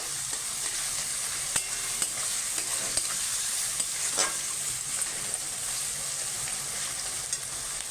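Chopped onions fry in a pan for a chicken curry with green chillies, salt added, giving a steady close hiss broken by scattered scrapes and taps of a spoon stirring.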